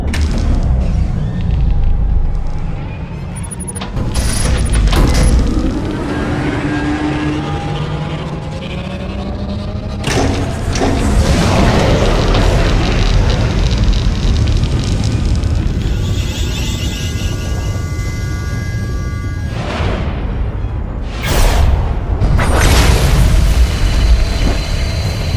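Starship superweapon Silencer firing in the Star Wars: The Old Republic space battle for Corellia, heavy deep booms and rumbling explosions rolling over a droning hum, with sharp blasts punctuating the sustained roar.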